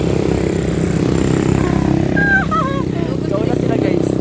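Motorcycles revving and pulling away with a steady mid-pitched engine drone, loud and nearby, while a person talks over them.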